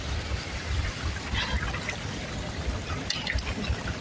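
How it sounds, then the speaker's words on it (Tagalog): Water flows steadily through a gold sluice box outdoors, a continuous rushing trickle with faint splashes, moderately loud and without voices. "magbabawas tayo ng tubig kasi malakas yung tubig natin"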